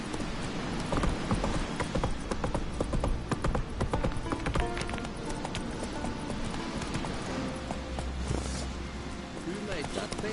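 Roach, a horse in The Witcher 3 video game, gallops with a steady, loud clip-clop of hooves running throughout, while voices shout over it.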